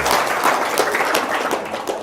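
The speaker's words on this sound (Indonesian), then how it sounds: "Tepuk tangan dong" Audience applause breaking out in a small room, a short burst of scattered hand claps that stays fairly loud and dense for a couple of seconds.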